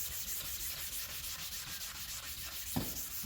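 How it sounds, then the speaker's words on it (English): A scuff pad is rubbed by hand across high-build primer on a Smart Fortwo, giving a continuous soft, close abrasive scratching with faint back-and-forth strokes and a small knock near the end. "so that you can speed up the sanding process"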